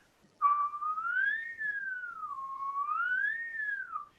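A person whistles one steady, pure tone that glides slowly up and down in a smooth wavering line, with the tongue arching to shape the pitch. It is close and clear, with no other sound for about four seconds.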